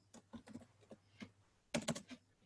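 Rapid, uneven clicks of a computer keyboard as code is typed during a data science training session, with short bursts of keystrokes and a louder cluster near the end, close and clear with no talking.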